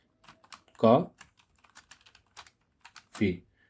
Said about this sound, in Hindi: ये हम कीबोर्ड से लिखें